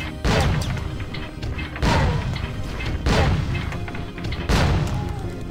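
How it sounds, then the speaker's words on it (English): Several heavy booming crashes from a rocket blowing up in a video game, four loud impacts spaced roughly a second or more apart over a dense rumbling game soundscape. "Fucking blew up my goddamn rocket!"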